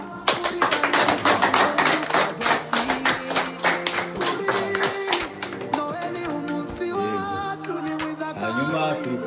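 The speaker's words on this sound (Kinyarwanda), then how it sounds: "Mukomere amashyi nziza cyane" An audience at a community Christmas gathering claps in quick rhythmic bursts alongside melodic singing. The clapping is strongest early on, then thins out while the tuneful voices carry on.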